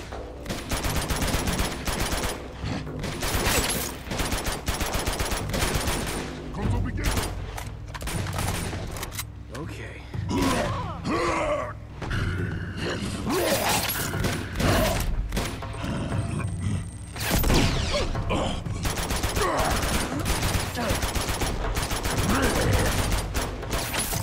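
Continuous gunfire rattles through a video game firefight as dense, rapid bursts of shots that keep going almost without a break, loud and close, with occasional shouted voices underneath.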